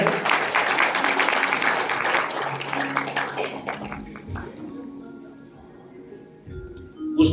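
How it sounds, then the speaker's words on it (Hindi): A burst of applause from a group at a Hindu devotional event rises briefly, then thins to scattered claps and fades as voices murmur in the background. "जोरदार तालियां जो है।"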